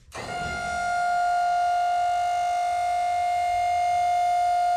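A steady high-pitched whine of a hydraulic pump raising a small dump trailer bed starts up after a click and holds constant, close and fairly loud.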